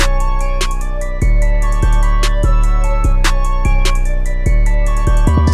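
Trap beat built in FL Studio, with drums, hi-hats and melodic layers over deep 808 bass, playing a steady loud loop with a fast hat roll near the end, no voice.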